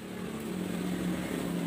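A Honda water pump engine converted to run on LPG chugs steadily with a low, continuous rumble, close and fairly loud, without any talking.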